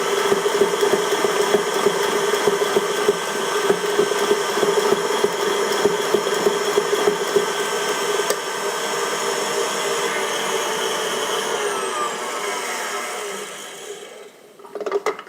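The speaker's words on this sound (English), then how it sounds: "we're going to beat this for a few minutes until it becomes pale yellow and ribbony when it comes off the beater" An electric mixer steadily whirs at high speed, beating eggs and sugar for a banana cake roll batter; the motor drones loudly and constantly, close by, with no talk, then winds down near the end.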